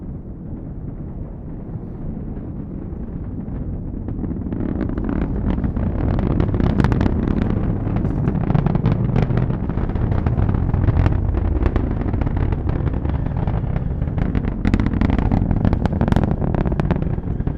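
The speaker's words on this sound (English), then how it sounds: "Let's listen in to the roar of the Falcon 9 engines" Falcon 9 rocket engines roaring during a launch carrying the Euclid space telescope: a loud, continuous broadband rumble that swells after a few seconds and holds steady, with crackling bursts on top and no talk.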